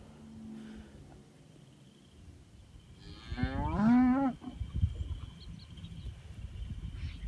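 A single Angus bovine gives one drawn-out moo that rises and then falls off, fairly near, over quiet outdoor farm ambience with no talking.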